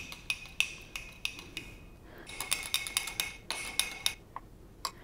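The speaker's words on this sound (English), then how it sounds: "You can just stir it." A spoon stirs half-melted coconut oil in a container, giving a series of light metallic clinks and taps at an uneven pace, quiet and close.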